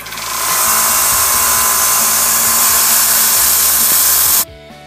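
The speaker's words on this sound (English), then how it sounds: "36 grit belt, and we're going to remove some more steel, but slowly." Belt grinder running a 36 grit belt grinds a steel knife blade with a loud, continuous high-pitched rasp that holds steady for several seconds, then cuts off abruptly, leaving a quieter motor hum.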